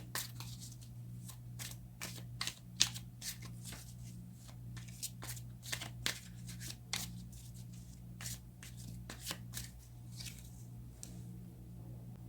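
Tarot cards are shuffled and drawn by hand in a quiet room, a run of crisp riffling snaps and soft slides with a steady low hum underneath and no talking.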